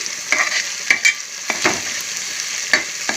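Ingredients fry in a pan during preparation of a mutton curry, a close, steady hissing sizzle punctuated by a few sharp stirring scrapes and clinks.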